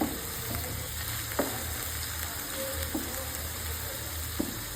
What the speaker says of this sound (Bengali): একটা চামচ পরিমাণ গোলমরিচের গুঁড়ো দিয়ে ভাজতে থাকবো